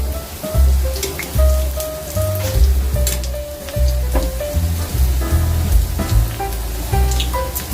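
Bajji batter fritters frying in hot oil, a steady close crackling sizzle with bursts of popping, heard beneath continuous background music.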